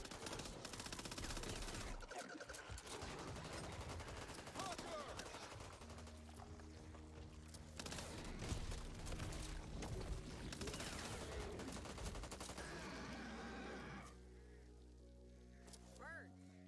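Sustained rapid gunfire in the zombie shooter game Back 4 Blood, loud continuous bursts of automatic shots that thin out near the end as a droning tone takes over.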